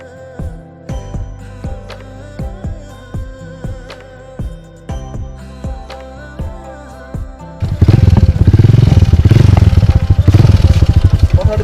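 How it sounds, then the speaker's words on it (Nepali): A motorcycle being set up for a wheelie, first idling with rhythmic blips of the throttle, then a loud sustained high-rev roar as the clutch is released, close and dominant. "अनि त्यो पछि एक्सिलेटरलाई हजुरले रेप दिइरहनु पऱ्यो होइन। हल्का 5-6 सम्मको तपाईँको आरपिएमको लिमिट पुगिसकेपछि हजुरले क्लच छोडिदिने"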